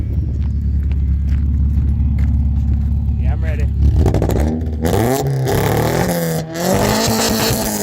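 An old car engine that burns oil badly idles with a low, heavy rumble, then revs loudly several times up close while people talk over it.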